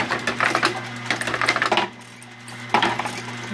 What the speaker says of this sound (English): There's the auger spinning, you can see right there.